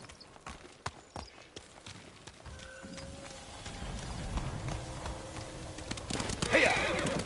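A horse whinnies amid hoof clops and scattered knocks in the video game Ghost of Tsushima, with outdoor background noise growing louder toward the end.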